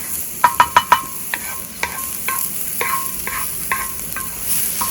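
Food searing in a very hot pan on a camp wok burner, with a quick run of four sharp metallic clinks of a utensil against the pan, then softer scraping stirs at a steady pace over a constant sizzle.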